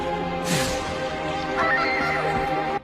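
A single horse whinny rings out loud and close, a rising then falling neigh lasting about two seconds, used as a sound effect in a narrated historical story.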